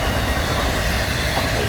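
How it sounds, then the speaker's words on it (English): Intermodal freight train carrying trailers and containers rolls past close by, a steady loud rumble of wagons and wheels filling the short stretch without pause. "So now this is the intermodal. Trailers and containers."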